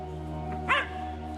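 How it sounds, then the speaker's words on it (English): A dog yips once at a papakainga in Ruatoria, a short sharp bark heard at moderate distance over a steady low hum, with a fainter yelp just before it. "This papakainga in Ruatoria is home to a multitude of dogs."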